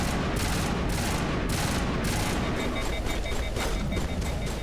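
Rapid bursts of gunfire from the video game Mass Effect 1, dense repeated shots in a continuous loud volley with little pause.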